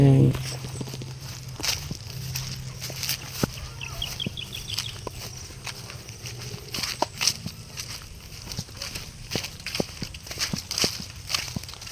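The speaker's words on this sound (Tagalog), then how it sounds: "Ito ano yung kalabaw natin." A hungry water buffalo (carabao) walks on a farm by a fishpond, its hooves thudding in a steady clip-clop of footsteps, with birds and farm sounds around it and someone talking now and then.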